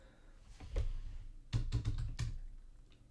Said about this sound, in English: Let's keep typing.